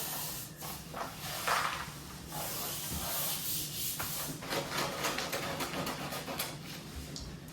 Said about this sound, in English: what I now need to do is slowly rub this down from here, applying the application tape